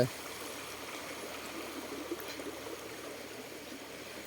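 A small stream runs through a shady spot with a steady, soft trickle and burble. The flow is continuous and fairly quiet, with a brief splash near the start and no talking.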